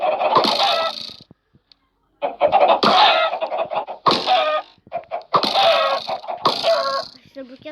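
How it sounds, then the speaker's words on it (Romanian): Loud clucking and squawking from a flock of chickens in a Minecraft-style video game, repeated bursts close up with brief pauses between them. "Uite aici că avem câteva găini."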